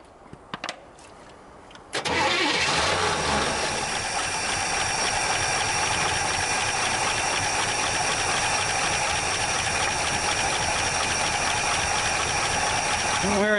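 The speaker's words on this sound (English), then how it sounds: "I don't hear any bottom end noise, just the lifters clacking." 1965 Chevrolet Bel Air V8 starting after sitting for decades, a short burst of clicks before the engine catches and runs steadily with a loud, hissy, ticking lifter clatter nearby.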